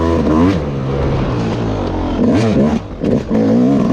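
A Yamaha YZ250 dirt bike engine, not fully warmed up, runs loud and close with a raspy two-stroke drone. It blips through several sharp revs with brief dips between them.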